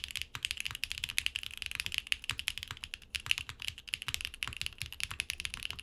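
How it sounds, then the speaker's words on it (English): Fast, steady typing on a Neo 80 TKL mechanical keyboard fitted with case foam, a dense stream of bright, clacky keystrokes heard up close with no talking. "Adding in just the case foam makes the board even more clacky, which was unexpected."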